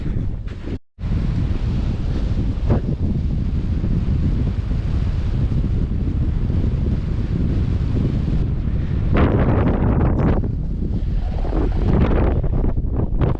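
Loud, continuous wind roaring and buffeting against the microphone high on a narrow ridge spine, with low rumbling gusts and no voices.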